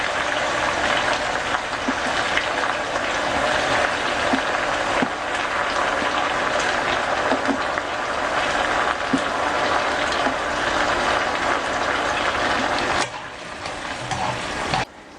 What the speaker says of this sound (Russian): Вливаю воду